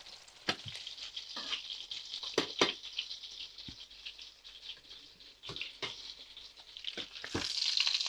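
Pork tenderloin cutlets frying in hot oil over lowered heat with a steady sizzle, broken by sharp pops and occasional clinks of a utensil against the pan.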